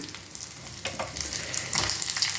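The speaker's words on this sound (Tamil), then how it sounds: "பூண்டு இஞ்சி போட்டுட்டோம். கருகிடக்கூடாது." Garlic and ginger fry in a pan for mint chutney, a short, close burst of crackling sizzle that grows slightly busier toward the end, with no talk.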